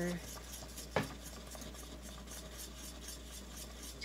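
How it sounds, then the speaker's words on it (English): A spoon works caramel around a pan in a soft, continuous scraping stir, fairly quiet and close, with one sharper clink near the start against the utensil or pan. "You just kind of keep stirring it around"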